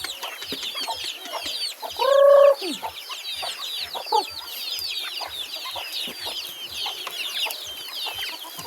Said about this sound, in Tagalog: And then ang ibang native chicken ko dito is mga darag.